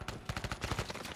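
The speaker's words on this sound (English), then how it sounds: "Taking rounds." Rapid gunfire in Warzone, a burst of close, evenly spaced shots rattling through a short stretch with no talk over it.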